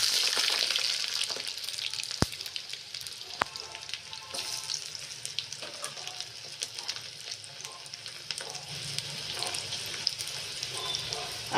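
Garlic cloves sizzling in hot tadka oil with cumin after the gas is switched off, a continuous close crackling hiss with a couple of sharp clicks early on.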